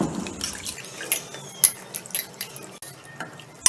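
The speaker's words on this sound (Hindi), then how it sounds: "और इसे पानी के साथ अच्छे से 3-4 बार धोएंगे।" Red lentils (masoor dal) washed by hand in water, with soft drips, splashes and gentle sloshing, some small clinks, close and fairly quiet with no talking.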